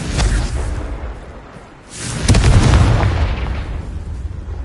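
A spell explosion called Confringo from a wizarding video game: a loud, close blast with a roaring burst, a brief dip, then a second heavy rumbling boom that sustains to the end, with no talking.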